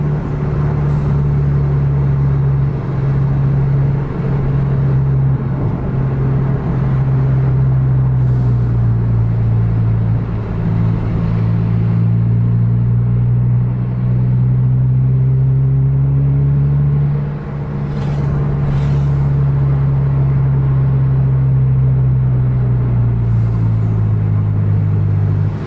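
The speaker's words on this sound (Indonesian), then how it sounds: "Armada Indah masuk overtake truk." A bus engine drones loud and close while the bus overtakes a truck on the road, a sustained low rumble with gradual shifts in pitch as it holds speed, continuous and without talk.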